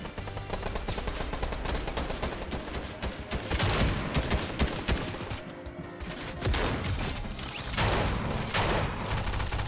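Rapid bursts of automatic gunfire from a Fortnite battle, dense and sustained over several seconds with overlapping shots and brief lulls, loud and close.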